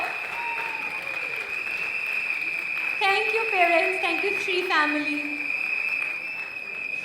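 A school annual day crowd keeps clapping with a steady shrill whistle riding on top, while a presenter speaks over the applause through the middle of it.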